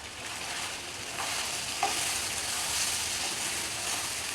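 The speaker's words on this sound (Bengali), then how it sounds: "আদা রসুন পেস্ট প্রায় 2 টেবিল চামচ আমি দিয়ে দিলাম।" About two tablespoons of ginger-garlic paste fry in a pan while being stirred, giving a loud, continuous sizzling hiss with a faint scrape or two and no voices.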